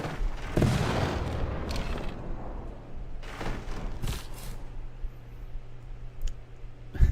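Field cannons fire in Civilization VI as a quick volley of sharp cracks and deeper booms, followed by scattered, fainter bursts and clicks over a rumbling game background.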